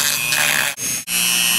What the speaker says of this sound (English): now I'm using the Dremel tool to sand some areas right around the eyes a little bit smoother